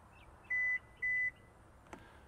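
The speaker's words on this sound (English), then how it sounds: "I'm going to hold this button down right here and listen for the beeps." A 2022–2023 Kia Sorento's power liftgate gives two clear electronic beeps, evenly spaced and close, as its opening height is set, followed by a faint click in an otherwise quiet space.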